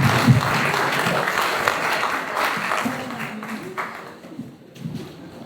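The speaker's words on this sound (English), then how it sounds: "please give a round of applause for Barbara Harris" An audience at a language company's 25th anniversary celebration applauds a woman being welcomed to the stage, a full burst of clapping that gradually thins out and fades toward the end as voices start to come through.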